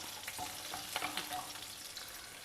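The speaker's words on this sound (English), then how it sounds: "add the remaining sambar onions or shallots to this and let them fry well till the onions are well cooked" Sambar onions (shallots) sizzle steadily in a pan, a continuous soft frying hiss with occasional light stirring scrapes and small crackles throughout.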